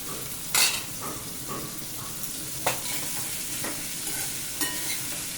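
Ivy gourd (tindora) pieces dropped into hot oil with asafoetida and turmeric, sizzling steadily while a spoon stirs with a few sharp scraping clatters against the pan.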